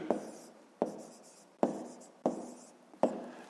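A pen writes out a maths division solution on paper, giving five evenly spaced, close scratchy strokes, each with a sharp onset that fades, with no talk.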